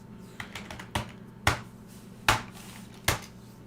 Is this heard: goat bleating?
no